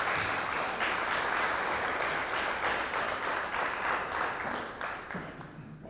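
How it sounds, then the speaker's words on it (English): An audience at a public community meeting applauds in a dense, sustained burst of clapping that fades slightly toward the end. "Give her a round of applause."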